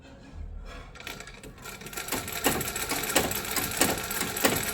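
A sewing machine stitches a fall onto the edge of a saree, its rapid rhythmic stitching close and steady, building after a quieter start and running continuously with light bursts of clatter.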